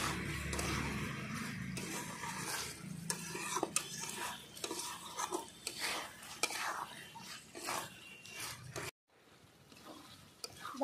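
A chicken curry with whole garlic cloves, onions and small potatoes being stirred and sautéed in a pot, with repeated scraping strokes and clinks over a low sizzle, then an abrupt quiet stretch near the end.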